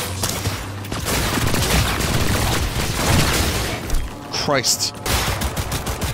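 Gunfire in the video game Cyberpunk 2077, a dense rattle of shots filling most of the stretch at steady loudness. Voices talk over it, with a brief break and a shout near the end before the firing resumes.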